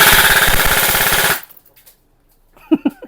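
A G&G ARP9 2.0 airsoft gun fires one loud, rapid full-auto burst of tightly spaced shots at close range, then stops abruptly, followed by silence and a few faint clicks and handling knocks.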